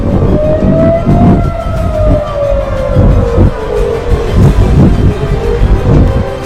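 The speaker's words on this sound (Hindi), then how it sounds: "इसराइल में अभी सायरन्स बज रही हैं" Air raid sirens wailing across Tel Aviv during an Iranian missile launch, loud and continuous with a slowly falling pitch that fills the whole stretch, with rumbling background noise underneath.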